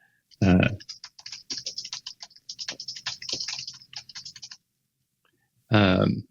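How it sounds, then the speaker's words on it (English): Rapid typing on a computer keyboard sounds as a quick, steady run of light key clicks, close and clear, with a voice speaking briefly before and after. "So I'm just going to type in"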